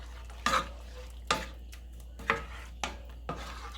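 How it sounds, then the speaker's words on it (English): A spoon stirring garlic-powder gravy for smothered pork chops in a pan, five distinct scraping strokes at an unhurried rhythm over a quiet sizzle, close and fairly soft. "So let's give that a stir."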